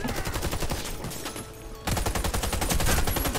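Rapid automatic gunfire from the Warface video game, dense close-range bursts that pause briefly and then resume louder, with hardly any voice over it.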